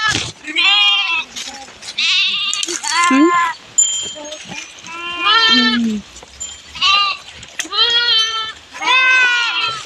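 A flock of sheep grazing in a cotton field bleats loudly and repeatedly at close range, overlapping calls filling the scene, with people talking briefly in between.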